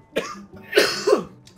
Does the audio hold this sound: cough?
yes